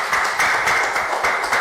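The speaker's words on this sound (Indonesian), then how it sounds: "tepuk tangan untuk beliau" Audience applause breaks out after praise at a talk-show style gathering, a steady dense wash of many hands clapping throughout, fairly loud and continuous with no speech over it.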